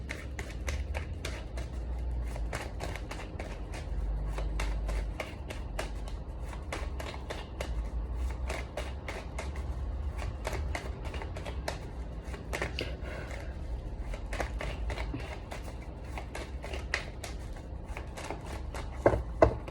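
Playing cards are shuffled by hand in a quiet room, with a steady run of soft riffles and taps going on alone, without any talking.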